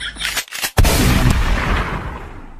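A single loud, close gunshot bursts out abruptly, followed by a long rumbling boom and reverberating tail, with brief fragments of a voice or other sound just before it.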